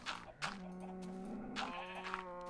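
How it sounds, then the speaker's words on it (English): Cow-like animal calls in a video game, two drawn-out tonal bleating moos one after another at moderate distance, fairly quiet with no talking over them. "Shut up, cows."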